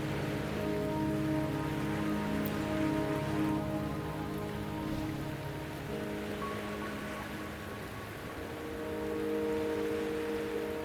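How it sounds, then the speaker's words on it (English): Steady rain pours in the video game Wuthering Waves on the way to Mount Firmament, a constant close hiss of drops on surfaces under soft sustained musical tones, with no talking. "The rain won't last much longer."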